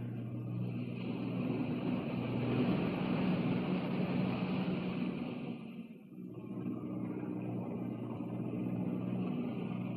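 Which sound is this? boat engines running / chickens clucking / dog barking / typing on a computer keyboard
boat engines running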